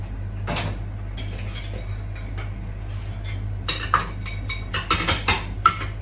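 Saucepans, plates and cups are washed up at a kitchen sink, with scattered clinks and knocks of crockery and pans over a steady low hum, growing busier toward the end.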